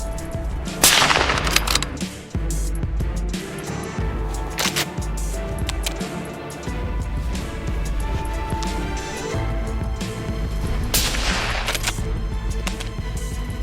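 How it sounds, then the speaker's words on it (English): Rifle shots ring out during a feral hog hunt on dry grassland, with several loud, sharp reports separated by seconds over a steady outdoor background and no talking. "I raised my rifle, my heartbeat racing. Bang!"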